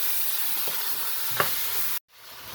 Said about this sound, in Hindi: अच्छी तरह भून लिया प्याज और गर्म मसालों के साथ